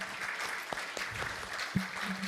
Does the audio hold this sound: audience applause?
yes